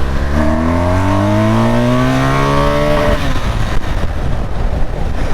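A BMW R1200GS motorcycle pulls hard in second gear, its engine note climbing steadily and loudly for a few seconds before breaking into rougher wind and road noise.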